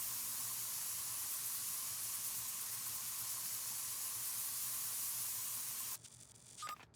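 A spray paint tool in Spray Paint Simulator releases a continuous, even hiss for about six seconds before cutting off abruptly, followed by a faint click, with no voices.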